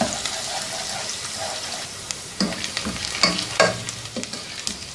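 Onions sizzle steadily in a hot pan while a utensil stirs and scrapes now and then, close and moderately loud, with no talking.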